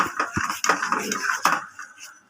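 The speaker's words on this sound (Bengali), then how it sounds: "দেখুন আমার তেলটা গরম হয়ে গেছে এবার আমি পেস্টটা দিয়ে দেবো দেখুন এবার আমি এটা ভালো করে একটু নেড়ে নিই" Shrimp paste is stirred in hot oil in a pan, producing close metallic scrapes and clinks of a utensil against the pan over a soft sizzle in one short burst.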